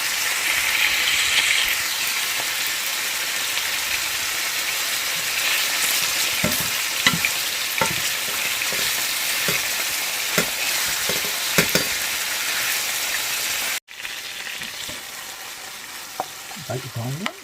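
Chicken stir-fries in a hot pan with a constant loud sizzle and repeated scraping knocks of a spatula, the sound briefly cutting out near the end before resuming.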